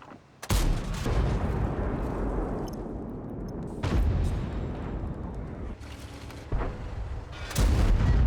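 An IS-3 heavy tank in World of Tanks fires its gun repeatedly, several sharp loud booms spaced a few seconds apart, each followed by rumbling battle noise and engine drone, with no talk.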